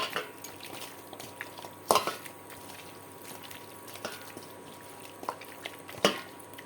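Raw chicken being mixed by hand in a bowl with turmeric, salt and mustard oil for Odia chicken kasa, soft wet squelching with a few sharp clinks against the dish, close and quiet.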